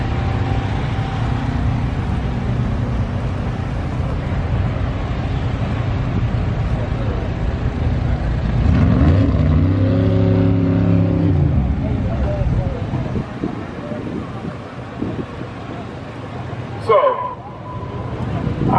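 At a drag racing event, a turbocharged Chevy LS engine revs and drones loudly amid crowd noise, rising in pitch as it climbs, while people talk over it.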